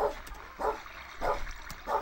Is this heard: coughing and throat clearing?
no